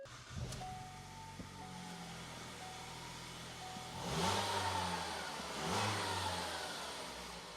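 A car engine in a home garage, with its axles removed, turns over and settles into a steady low idle, then gets two short revs near the end. It is close and fairly loud, and no one speaks.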